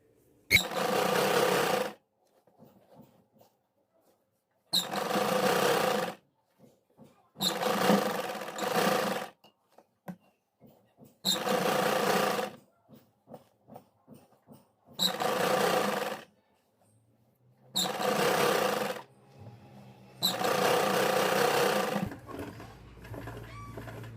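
Electric sewing machine stitching an Afghani salwar, running in seven loud, steady bursts of about one to two seconds each, separated by short pauses with faint handling clicks between runs.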